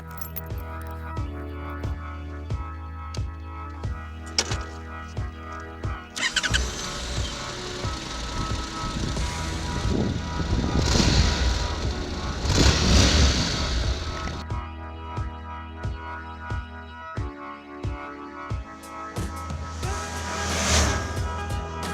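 A 2015 Honda NC700X motorcycle rides along with a steady low engine hum and wind rush, swelling louder midway as it picks up speed and then settling back, with no talking.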